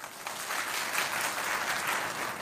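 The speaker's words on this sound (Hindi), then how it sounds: "और आइए तो ताली बजा दीजिए ना।" An audience at a Hindi-language talk claps in steady, continuous applause, a dense wash of many hands at moderate distance with no talk over it.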